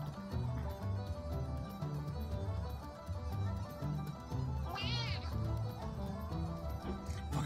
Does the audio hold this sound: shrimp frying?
no